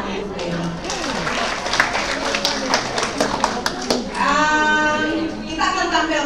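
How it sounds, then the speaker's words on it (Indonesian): Audience at a theatrical poetry event in a university library theatre bursts into applause, a dense crowd of clapping hands that swells and holds steady, with cheering voices and a brief whistle near the end. "Tepuk tangan ibu Denny."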